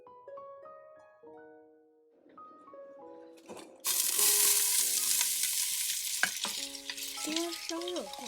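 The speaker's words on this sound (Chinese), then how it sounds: "倒入洋葱粒，加以翻炒" Diced onions hit hot olive oil partway through and burst into a loud, close, continuous sizzle with stirring scrapes, following a quieter opening where only light music plays; the music continues under the frying.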